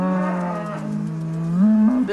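A dairy cow at a farm youth contest gives one sustained, loud, close moo that rises in pitch near the end, with no other sounds around it.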